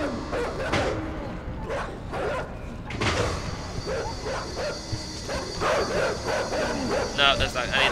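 Dogs in the video game INSIDE bark repeatedly in short, scattered bursts at moderate loudness, mixed with game ambience and a voice talking over them.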